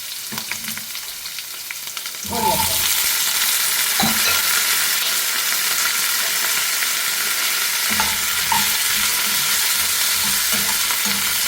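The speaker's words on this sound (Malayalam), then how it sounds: "കുറച്ച് വെളുത്തുള്ളി ഇട്ട് വെക്കാം. അതുപോലെ തന്നെ പച്ചമുളക്" Onion, garlic and green chilli frying in a pan for aloo methi: quiet until about two seconds in, then a loud, steady, close-up sizzle with occasional stirring scrapes.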